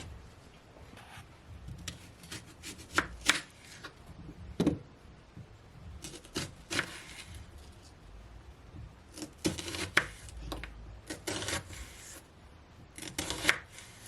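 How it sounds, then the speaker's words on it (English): A knife chops spring onions on a board in quick irregular taps, some in tight bursts and others spaced apart, close and fairly crisp. "So now she's cutting the spring onion, the scallion"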